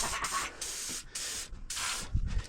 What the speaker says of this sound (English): we're just gonna spray everything I see.